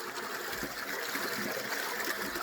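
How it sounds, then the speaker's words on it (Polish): Water drains through a monk outlet of a partly emptied fish pond, a steady, close trickling and gurgling flow. "Tu jest właśnie taki mnich przez który spływa woda"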